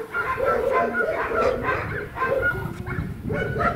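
Small dogs yap and bark continuously in an outdoor yard, a rapid, shrill chorus of overlapping yips and whimpers close by, with a voice speaking beneath.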